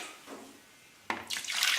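Water is scooped and poured from a container to flush a squat toilet in a Thailand or Laos restroom, a faint slosh followed by a sudden loud splash and rushing pour.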